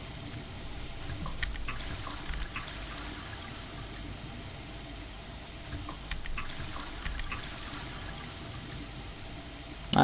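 Continuous gushing tap water runs steadily as a character drinks from a faucet in the video game Prey, a broad even hiss with faint clicks and no voices.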